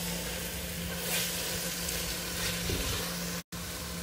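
Tuna and sauce mixture fries in a pan while being gently stirred, a steady close sizzle with soft scraping strokes and a brief dropout near the end, no voices.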